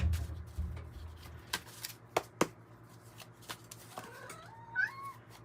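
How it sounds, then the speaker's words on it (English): A flame point Siamese cat gives a few short meows near the end, over soft shuffling and rustling movement with a couple of sharp taps. "there's a cat that walked in"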